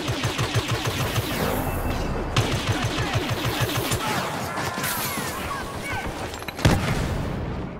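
Rapid blaster fire from Han Solo in the Star Wars Battlefront video game, a fast run of sharp repeating shots for several seconds amid loud battle noise, then a heavier impact near the end.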